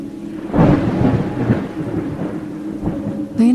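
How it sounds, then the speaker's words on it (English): Rumbling thunder over steady pouring rain on a chilly, windy night in a flooded city street, a storm effect in an animated story, with a loud crack rolling out and a fresh burst at the end. "The rain had been pouring since evening, and the streets were now flooded."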